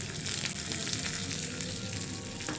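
Green chilli, ginger and curry leaves hit hot oil with a loud, continuous sizzle and crackle, close up and even, no talking over it.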